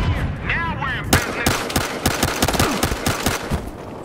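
Rapid gunfire in the Battlefield Hardline video game rings out as a string of sharp, loud shots in uneven bursts, with a brief voice at the start.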